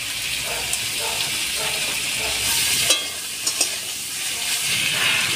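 Ground taro with small shrimp, seasoned with salt and turmeric, fries in a pan with a loud, constant hiss and sizzle, punctuated by a few sharp clacks of stirring; no one speaks.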